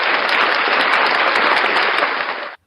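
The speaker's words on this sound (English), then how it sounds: "Oh, we got applause and everything" Enthusiastic applause from an audience greets a world champion at a live event, dense and loud clapping that holds steady for over two seconds before cutting off abruptly.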